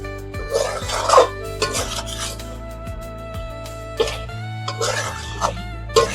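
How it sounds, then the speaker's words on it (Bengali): Young jackfruit being sautéed in a pan with goat fat, salt and turmeric, stirred in repeated scraping, rasping strokes close by over a steady low background hum, with a person speaking briefly between strokes. "এখন সুন্দর করে আমি একটু কষিয়ে নেব।"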